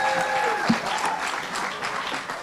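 An audience at a startup demo day applauds, a dense, continuous wash of clapping from a sizable crowd that stays steady throughout, with no voices standing out.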